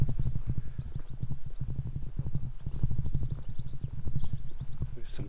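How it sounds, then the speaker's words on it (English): Ponies' hooves clip-clop in a steady, close rhythm on a quiet walk near Altaussee, Austria, with a brief whinny near the end. "Some ponies over here."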